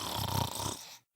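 A sleeping pony snores in a cartoonish story sound effect, a single drawn-out rasping breath for about a second, fairly loud and close, then cutting off to silence.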